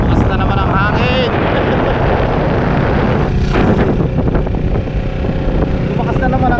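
Strong wind at sea buffets the microphone with loud, continuous broadband roar, gusting around a small fishing boat; people talk briefly over it near the start and middle.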